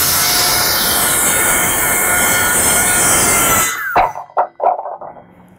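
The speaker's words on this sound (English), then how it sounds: "We're gonna set up for plywood, quick rip on that" A DeWALT FlexVolt 60V MAX brushless worm drive circular saw, DCS577, rips through plywood with a loud, sustained, harsh cutting roar that stops abruptly, followed by a few short thumps and the motor winding down.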